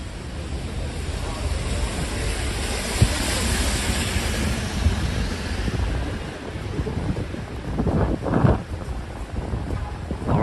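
Rain in New York City pours as a steady broadband wash near Moynihan train station, with a few louder thumps and swells toward the end.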